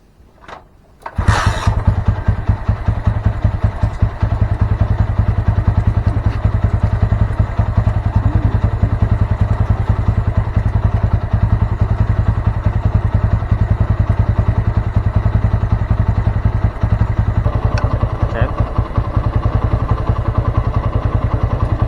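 A Honda Mega Pro Primus motorcycle that has been losing ignition and stalling is started up. After a second of near silence the engine catches, then idles loudly and evenly with a rapid, steady putter for about twenty seconds.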